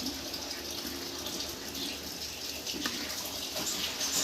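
Broken rice (khud) boiling in a pot over a village-style fire: a steady, soft bubbling hiss with occasional small pops, moderately close and continuous, with no talk.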